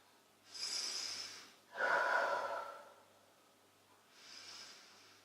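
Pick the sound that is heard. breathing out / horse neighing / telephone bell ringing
breathing out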